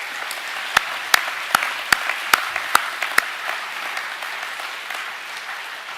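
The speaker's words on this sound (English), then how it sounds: "Boys, can we give everyone a round of applause" A school assembly audience applauds at a junior academic awards event, with a few sharp, loud claps standing out over steady, moderate clapping that gradually thins out.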